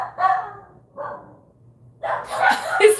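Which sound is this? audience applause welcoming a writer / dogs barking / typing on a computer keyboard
dogs barking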